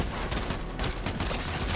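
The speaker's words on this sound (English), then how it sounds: "this hand cannon is doing major damage" Hand cannon fire in Fortnite, a burst of rapid overlapping gunshots with sharp repeated cracks, fairly quiet in the mix and with no talking over it.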